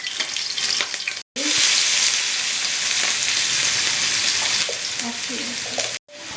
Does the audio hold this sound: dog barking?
no